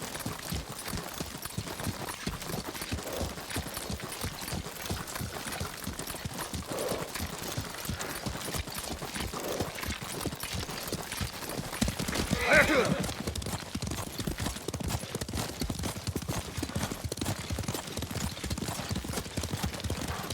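Horse hooves clip-clopping steadily through a ride in the video game Ghost of Tsushima, with a brief whinny near the middle and game ambience throughout.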